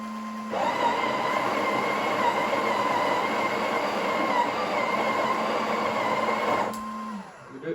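A Breville Oracle Touch BES990BTR espresso machine grinds coffee beans at grind size 18, a loud, steady whirring drone that runs about six seconds alone and then cuts off.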